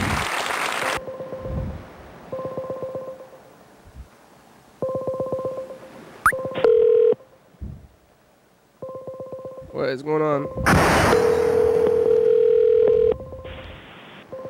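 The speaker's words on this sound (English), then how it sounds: "It's like more than one phone ringing sound at once." Several telephones go off at once, with bursts of touch-tone dialing beeps and dial tones overlapping and stopping and starting in uneven clusters, loud and close, while a voice speaks briefly.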